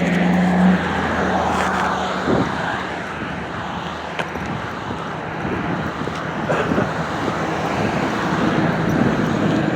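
A car drives past on a city street, a moderate whooshing roadway noise with wind buffeting the microphone and brief knocks, rising slightly toward the end, with no talk.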